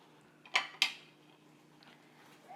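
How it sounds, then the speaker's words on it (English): Fettuccine pasta being added to simmering liquid in a pot, two sharp close clacks as the dry sticks hit the pot, then quieter scattered rustles over a low steady background. "So now we will just add our pasta."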